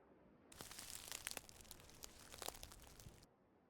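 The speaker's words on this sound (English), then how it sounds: "a rustling sound" Rustling effect in an audio drama, suggesting movement among trees: about three seconds of dry, crinkly rustle with small crunchy peaks that starts and stops abruptly.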